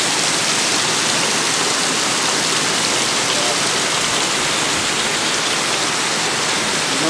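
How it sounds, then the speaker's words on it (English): Steady rain falls outdoors at a Disney park in August, a dense, even hiss filling the whole stretch without pause and no talk heard. "But if you can zoom in on the rain down there"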